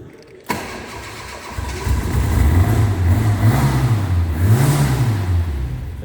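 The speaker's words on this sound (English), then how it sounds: "And then we'll just give her a fire up for you." A 1983 Ford Escort RS 1600i cranks and fires after a brief quiet moment, then settles into a steady idle with a couple of light revs rising and falling, close and loud with no talking.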